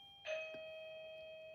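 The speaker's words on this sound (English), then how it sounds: "Y'all hear the doorbell." A doorbell rings once indoors, a bright two-tone chime that rings out and fades slowly over about a second, with no talking around it.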